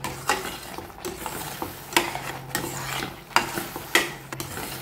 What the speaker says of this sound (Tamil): ஒரு ஸ்பூன் நெய் விட்டு இப்போ வதக்கிட்டுருக்கேன்